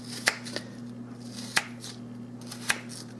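Knife chopping vegetables on a board for a coleslaw-style salad, three or four sharp, well-spaced cuts close by over a low steady hum, no talk.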